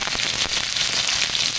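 Loud, steady sizzling of onions frying in a hot pan, a dense crackling hiss with scattered pops, close up.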